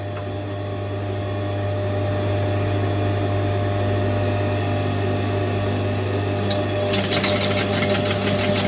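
A sewing machine stitches at an even speed with a constant motor hum and a close, rapid mechanical chatter. The sound grows a little busier and brighter near the end.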